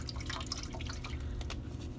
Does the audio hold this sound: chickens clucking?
no